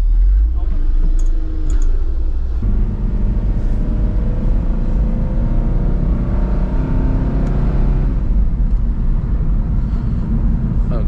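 A Subaru BRZ in manual mode drives along, its steady engine and road noise loud and continuous throughout, with a shift in tone partway through and people talking inside the cabin.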